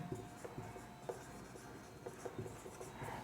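Someone writes out a Class 7 geometry solution on circle circumference, producing a steady run of short, scratchy strokes and light taps. The writing is close, fairly quiet and heard alone.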